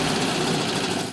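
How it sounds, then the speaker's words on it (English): An air-cooled flat engine in a Porsche runs steadily with a dense, even mechanical drone and buzz. It sounds close and fairly loud, with no talk over it. "Then there's the air-cooled flat engine,"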